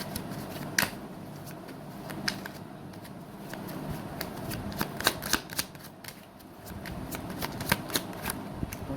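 Tarot cards shuffled by hand close up, a steady run of quick riffling flicks and soft slaps with brief pauses, in a quiet room.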